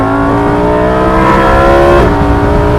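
A Lamborghini Huracan Performante Spyder roars close up as its engine revs hard and loud, its pitch rising steadily and then briefly dipping near the end as if through a gear change.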